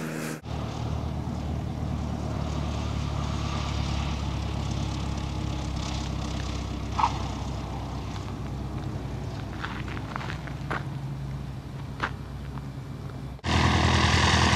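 Radio-controlled F70 aircraft landing at French Valley, a steady low engine drone with wind and outdoor rumble running throughout, ending in a sudden louder burst near the close.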